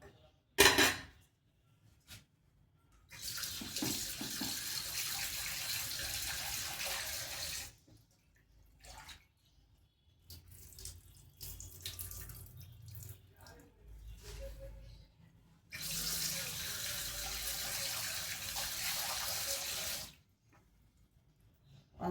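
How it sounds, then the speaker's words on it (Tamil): Running tap water splashes steadily as something is washed in a sink, with two long loud stretches of flow separated by quieter handling and clinking, close to the microphone. "இதை போட்டு நல்லா வாஷ் பண்ணுறேங்க."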